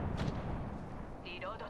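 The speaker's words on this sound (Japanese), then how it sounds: "グレード発射。" A grenade is launched with a deep thump in the Apex Legends video game, and a voice speaks over the game noise shortly after.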